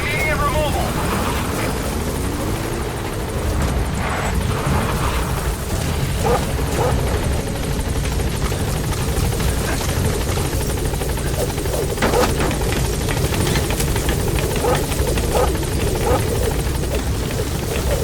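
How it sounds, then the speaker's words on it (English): A support helicopter arrives in the game Metal Gear Solid V: The Phantom Pain, its rotor chop a loud continuous drone throughout, with radio voices and game effects over it. "Support helicopter has arrived."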